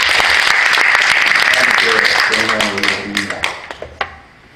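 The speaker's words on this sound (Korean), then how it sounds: "그분들께도 크게 박수 한번 드리겠습니다" Loud audience applause fills a church assembly hall at a national women ministers' general meeting, with a mix of voices layered over the clapping before it thins out into scattered individual claps.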